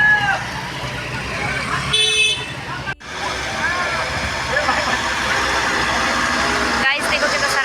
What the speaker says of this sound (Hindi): देखो कितना सारा जाम लग रखा है।